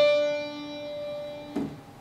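A piano plays an ascending major second: one sustained note rings for about a second and a half, then a slightly higher note is struck, both clear and alone.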